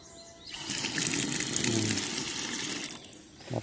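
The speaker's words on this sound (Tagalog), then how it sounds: "We have running water." Running water pours steadily from a tap at a mountain resort in Taptap, Cebu, a loud continuous broadband rush for most of the clip before easing off near the end.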